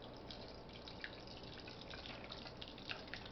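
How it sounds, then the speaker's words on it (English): Sauce poured through a kitchen strainer into a small bowl, a faint continuous trickle with soft drips and splashes, quiet and close, with no speech. "use the back of your spatula to press it to squeeze out the remaining liquid"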